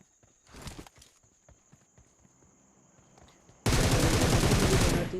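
In a shooting video game, soft footsteps and scattered taps lead into a sudden, loud, sustained burst of rapid gunfire that lasts over a second before cutting off.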